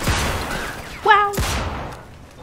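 A single sharp gunshot from a gun in the video game Mafia II bursts out near the start, followed by a ringing tone and a second thudding blast, with a voice talking quietly under the game sound.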